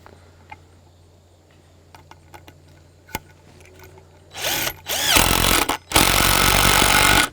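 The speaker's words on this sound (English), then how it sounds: "line it up a little bit, get a couple screws in here." A power drill drives screws into a hook mount, first some quiet handling clicks and taps, then two long loud bursts of whirring motor and grinding screw near the end.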